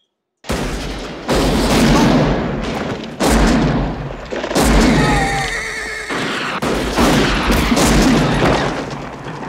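A loud gunfight from the 1976 western film The Outlaw Josey Wales, with repeated booming shots and echoing blasts in dense bursts through most of the scene, briefly interrupted by a horse's whinny.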